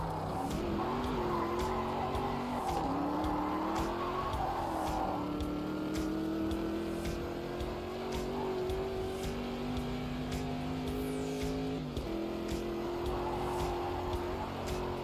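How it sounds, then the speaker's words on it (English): Porsche RSR race cars in the Automobilista 2 racing game, with a steady engine drone that rises and drops through gear shifts, plus tire skidding and squeal, heard close and at moderate level. "Here come them pesky Porsche RSRs again."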